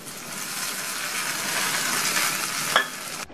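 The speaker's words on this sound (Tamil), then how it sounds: "தாளிப்பு சேர்த்து நல்லா கலந்து விட்டாச்சு." Tempering of mustard seeds, curry leaves and split dried chilies sizzles and crackles as it is stirred into coconut chutney, a steady close frying hiss with a brief sharp scrape of a spoon near the end.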